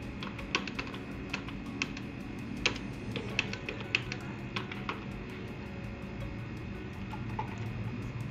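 Keys on a keyboard tap out a phone number in scattered, sharp clicks over a steady low background hum, with no talking.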